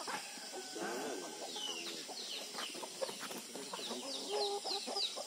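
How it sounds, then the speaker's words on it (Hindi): Chickens cluck softly in a village yard in Mayabunder in the Andaman Islands, with a run of repeated clucks and chatter that is quiet and somewhat distant. Faint voices can be heard in the background. "मुर्गी मुर्गी मुर्गी"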